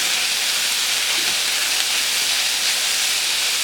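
Steak sizzling in a hot pan, a dense, steady hiss that holds at an even loudness throughout with no voices over it.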